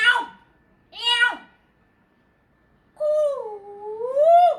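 A storyteller's voice imitates a cat, giving three drawn-out meows: two short ones separated by a pause, then a longer wavering one, each alone and close.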